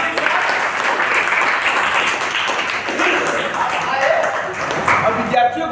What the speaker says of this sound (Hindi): तो एक बार पुनः इनका स्वागत कीजिएगा सभी लोग तालियों के साथ